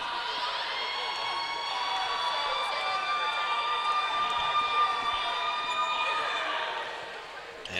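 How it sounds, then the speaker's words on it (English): Basketball crowd noise fills the Convocation Center during a men's college game, a steady, sustained wash of cheering and whistling that holds loud and even throughout, easing slightly at the end. "Pretty good crowd here at the Convocation Center."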